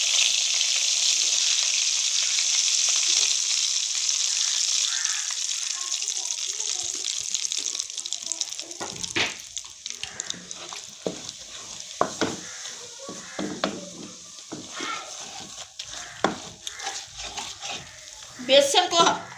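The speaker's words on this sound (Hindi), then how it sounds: "इसमें बेसन को हम अच्छी तरह से भून लेंगे।" Gram flour roasting over low heat in a pan, with a steady dry sizzling hiss that later breaks into irregular scraping and clattering stirring strokes, close by and fairly loud.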